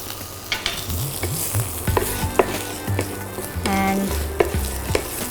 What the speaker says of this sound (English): A little bit of curry leaves, a little bit of hing, and let's just toss this one